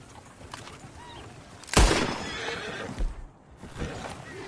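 Horse whinnying in Red Dead Redemption 2, one loud sharp neigh near the middle followed by snorting and shuffling, with softer ambient sounds around it and no talk.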